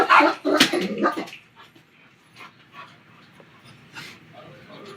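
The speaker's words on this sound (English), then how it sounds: "you shouldn't bark like that" A pet dog gives a few loud, sharp barks and yelps at the start, followed by quieter panting and faint whimpers close by.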